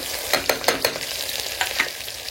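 Onion drops into hot oil with cumin and bursts into a loud, close sizzle. Several sharp crackling pops and stirring scrapes rise above the frying hiss in quick bursts.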